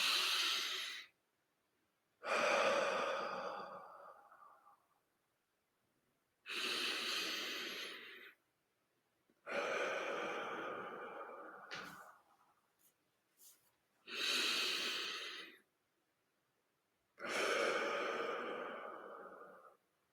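Slow, deep breaths during a guided moment of calm, six long airy inhales and exhales spaced a few seconds apart with silence between, close and clear.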